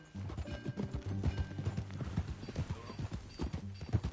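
Horses clip-clop at a steady walking rhythm while being ridden, hooves close and distinct, with a horse's brief whinny and faint voices in the background.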